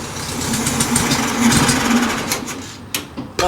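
A 1970 VW Beetle engine, fed through a snorkel carburettor, runs loud and steady with a busy mechanical clatter. It sputters and drops near the end.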